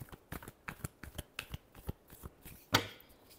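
Tarot cards being shuffled in a final shuffle during a love reading, with a steady run of soft riffling flicks and a sharper slap near the end, close and quiet with no talking.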